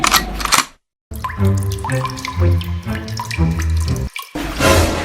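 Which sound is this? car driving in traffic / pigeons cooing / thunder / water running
water running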